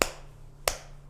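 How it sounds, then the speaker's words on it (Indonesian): Two sharp hand claps a little over half a second apart, crisp and close, each decaying quickly into a quiet room with a faint low hum underneath. "Jadi yang disebut tepuk tangan itu bukan begini."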